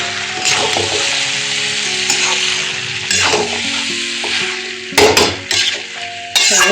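Water poured into a pan of sautéed jackfruit masala sets off loud, steady sizzling, with repeated sharp clinks and scrapes of a spoon stirring against the pan.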